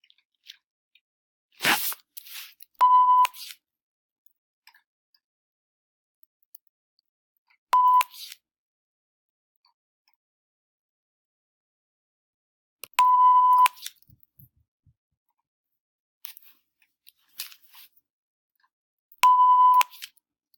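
Short electronic beeps from a phone as its volume button is pressed on and off to mark an interval timer, four separate beep bursts spaced several seconds apart, with a sharp handling click just before the first, clear and close in a quiet room.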